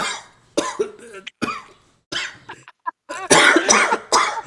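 A person coughs repeatedly in harsh, close bursts, with short pauses between fits and a final cluster of heavy coughs.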